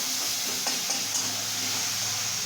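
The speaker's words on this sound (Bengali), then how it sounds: "মশলাটা ভাজা ভাজা হয়ে গেছে মা তখন অল্প একটু জল দিয়ে দেবে" Spice masala frying in a pan for stuffed bitter gourd gives a steady, close hiss and sizzle throughout, with a few faint stirring scrapes and no voices.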